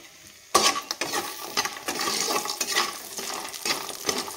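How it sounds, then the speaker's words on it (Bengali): Lentil dumplings (bori) fry in hot oil. A crackling sizzle bursts in after a quiet half-second and then carries on, busy and close, with uneven pops and spatters. "তো লাল করে আমি ডালে বড়িগুলো ভেজে নেব।"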